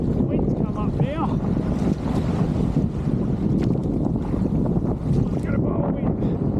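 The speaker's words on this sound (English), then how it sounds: "Because I had to wait for the tide, the wind's come up now." Strong wind buffeting across open water at a coastal inlet, a continuous loud roar and rumble with gusty microphone noise throughout.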